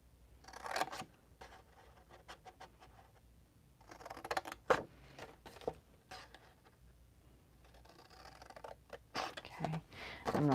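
Scissors snipping paper while making a flap-fold craft treat box, several short bursts of close cutting and rustling separated by quiet gaps, with soft talking in between.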